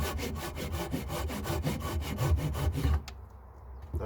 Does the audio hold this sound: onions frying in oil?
no